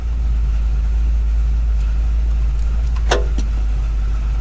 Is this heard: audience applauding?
no